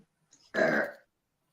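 A single loud, close burp after a meal, lasting about half a second in otherwise near silence.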